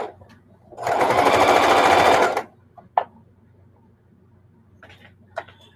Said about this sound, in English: we're sewing through 5 layers